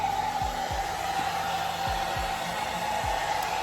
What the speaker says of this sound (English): So I am going to dry my face with my blow dryer on cool, not hot, on cool.